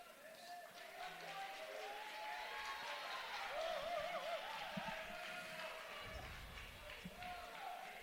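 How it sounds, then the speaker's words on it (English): Wrestling crowd at a college dual meet swells with excited cheering and scattered applause, a steady mid-level roar across the arena with thumps and shouts rising and falling throughout. "Crowd getting excited about that."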